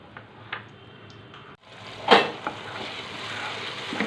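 A masala of mustard, tomato, green chilli and curd hits a hot pan for mustard hilsa fish curry; the sizzle swells suddenly and keeps hissing, with a sharp utensil scrape and a few light clinks nearby.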